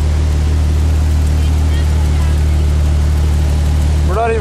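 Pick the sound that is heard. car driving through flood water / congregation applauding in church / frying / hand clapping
car driving through flood water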